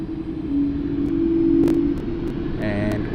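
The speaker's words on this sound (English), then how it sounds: "before Jetstar leaves, we've got United just taxiing across." A United airliner taxiing across the field at Sydney Airport gives a steady, fairly distant engine rumble with a low droning hum that holds throughout, with some faint background chatter.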